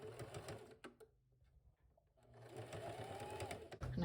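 A sewing machine with a stitch length of 3 stitches the edge of a cotton jelly roll rug with batting, a fast close whirring run that pauses briefly mid-clip and then resumes.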